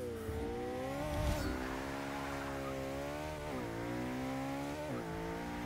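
A car in Forza 6 accelerating hard, its engine rising steadily in pitch, then dropping briefly at each gear shift before climbing again, loud and close with a faint tire chirp near the start.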